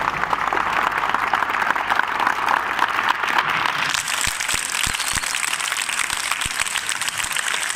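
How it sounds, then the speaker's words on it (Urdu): Sustained applause from an audience at a school art and craft exhibition, dense steady clapping filling the first half, then thinning into scattered individual claps over a quieter room. "جس کو آئی ہے وہ تالیاں بجائے."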